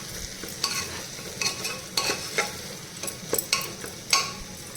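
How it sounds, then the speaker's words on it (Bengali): Kidney beans stirred and sizzling in a pan for Punjabi home-style rajma, a steady close fry broken by repeated spoon scrapes and clinks roughly every half second, with no talking. "এবার আমি রাজমাগুলো দিয়ে তারপর আমি"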